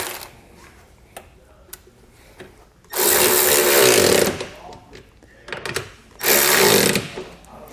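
A power tool tightens bolts on Westin Sure-Grip running boards fitted to a 2020 Chevrolet Colorado. Two loud, close bursts of about a second each are separated by quieter clinks and handling noises.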